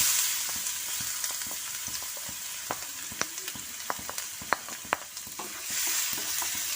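Finely chopped garlic sizzles in hot oil for restaurant-style gobi manchurian, with a steady close frying hiss and scattered clicks and scrapes as a spoon stirs the pan.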